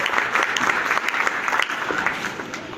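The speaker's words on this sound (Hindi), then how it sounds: "एक बार ताली बजा दो भाई" Crowd applause at the closing ceremony of a district-level volleyball tournament, a steady dense wash of clapping from many hands, fairly near and even throughout.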